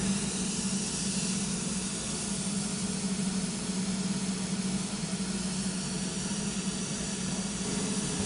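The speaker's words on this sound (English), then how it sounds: "In a minute, you'll hear the mist start coming through the system." Aeroseal duct sealant mist blows through residential ductwork as a steady, even hiss with a low airy rush underneath, continuous and fairly close, no voices.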